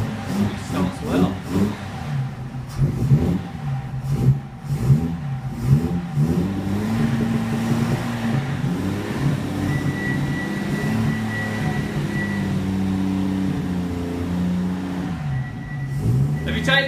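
An Armstrong Siddeley Hurricane car engine starts for the first time in ten years after sitting in a garage, then settles into a steady, close idle with shifting revs. Voices talk briefly near the start.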